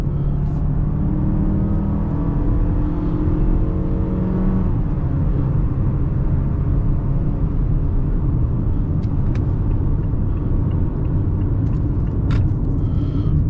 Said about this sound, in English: A little bit of wind noise, but not much to speak of. Relatively quiet cabin.